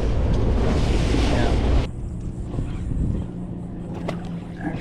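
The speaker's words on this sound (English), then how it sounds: "Feels more like a 12-knot wind with gusts of 50." Strong gusty wind on rough water while out fishing from a boat: loud roaring buffeting for nearly two seconds, then a sudden drop to a quieter, steadier rush.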